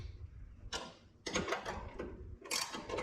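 A set screw on an automotive hood alignment tool is tightened by hand until snug against the front of a hood hinge, producing a few short, close metallic clicks and scraping bursts separated by brief pauses.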